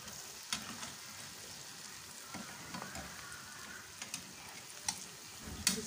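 Beef chaap frying in a pan, a steady soft sizzle with occasional light clicks and stirring taps, close and fairly quiet throughout.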